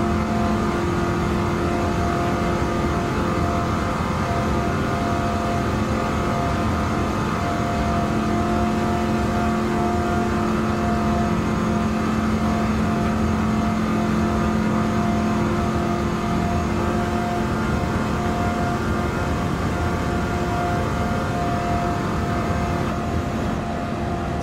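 A 1970 Plymouth Superbird with 848 horsepower races in Gran Turismo 7, its engine roaring loud and sustained in fifth gear under continuous strain, with no voices present.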